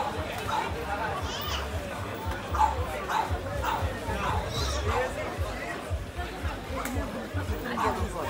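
Several dogs yip and bark repeatedly at a lively canine event in Brazil, the sharp calls scattered over constant crowd chatter and background noise.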